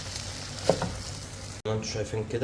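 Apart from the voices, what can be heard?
rice sautéing in pan with chicken and spices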